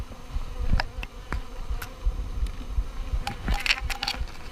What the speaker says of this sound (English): Got the bee in my brow now, so we'll see if she stings.